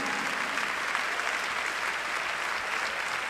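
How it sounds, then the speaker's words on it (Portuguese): A church congregation applauds steadily at a worship service, with many hands clapping in a continuous, even roar at moderate volume. "Aplauda ao Senhor."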